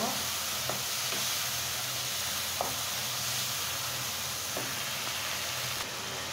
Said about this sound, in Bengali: এখন মশলার ভিতরে আমি মাছগুলা দিয়ে দিচ্ছি। মাছগুলা দিয়ে একটু কষিয়ে নেব।